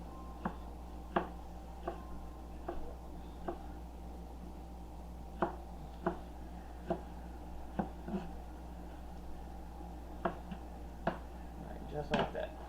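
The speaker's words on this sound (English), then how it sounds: "We're just gonna give them a rough chop." A knife roughly chops ingredients for a spicy shrimp and mushroom pasta on a board, giving about a dozen crisp, fairly even strikes over a steady low hum.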